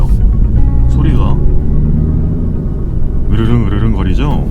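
A BMW Z4 sDrive20i roadster with a 190-horsepower petrol engine gives a steady, deep low rumble close by, while someone talks over it in two stretches.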